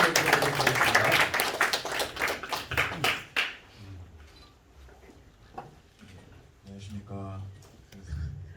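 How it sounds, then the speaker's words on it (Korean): Audience applause fills the first few seconds of a theatre award ceremony, dense and close, then fades into quieter room sounds with a few scattered claps. "다시 한번 축하의 박수 부탁드리겠습니다"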